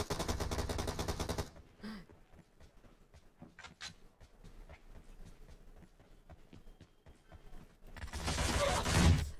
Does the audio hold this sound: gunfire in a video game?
yes